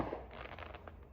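Fireworks crackle and pop in a dense, continuous burst, a rapid scatter of small bangs over a low rumble.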